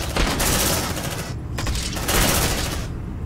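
In Aliens: Dark Descent, a squad of marines fires together on Nightmare difficulty in a refinery mission. The gunfire is loud, dense and continuous, broken by short pauses between heavy volleys.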